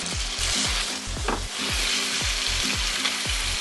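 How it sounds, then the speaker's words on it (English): Chicken pieces frying in a hot pan, searing to a char: loud continuous sizzle with rhythmic scraping strokes from stirring, close up and with no voices. "we let this cook till we get a char on the other side"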